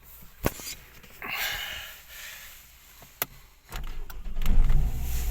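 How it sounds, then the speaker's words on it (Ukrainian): A 1996 Ford Escort with a fuel-injected engine cranks and catches after a few clicks and clunks, settling into a low, steady idle close by. "Вона заводиться прекрасно. Без підгазовок, без нічого."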